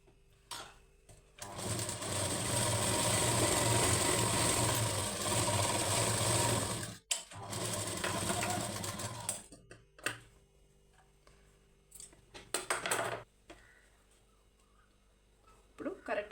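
A sewing machine double stitches a lining blouse in a long steady whirring run, stops briefly, runs again, then gives a few short bursts among clicks and handling noises, with a voice speaking at times.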